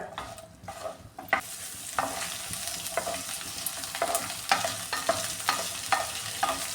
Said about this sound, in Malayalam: വെണ്ടയ്ക്ക ഒന്ന് ഫ്രൈ ചെയ്തെടുക്കുക വെണ്ടയ്ക്ക ഇതിലേക്ക് ഇട്ട് കൊടുത്തിട്ടുണ്ട്